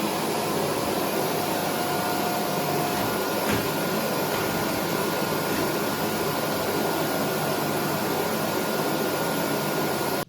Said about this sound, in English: I recommend to use a vacuum cleaner to get all the